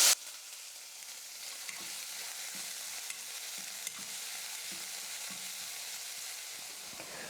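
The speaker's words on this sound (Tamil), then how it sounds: "வெங்காயமும் ஓரளவுக்கு நல்லா வதங்கி வந்துருச்சு." Onion, lentils, red chillies and curry leaves fry in a pan with a soft, steady sizzle and faint, periodic scrapes of stirring close by.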